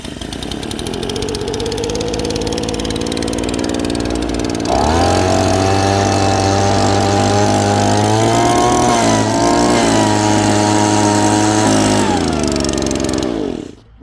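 A leaf blower engine runs loud and close, droning steadily before jumping to a higher, stronger pitch around five seconds in, holding there, then cutting out abruptly at the end.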